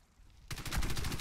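A sudden burst of rapid sniper rifle gunfire in Warface erupts after a moment of near silence, loud and rattling in quick succession.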